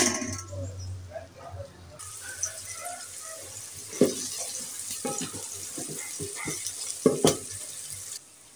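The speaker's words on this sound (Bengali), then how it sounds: "এই তেলের ভিতরে দিয়ে দেবো পেঁয়াজ কুচি।" Chopped onions go into hot oil for an egg biryani, a sizzle that swells after a brief pause, with sharp clanks and stirring scrapes from the pan, near and moderately loud.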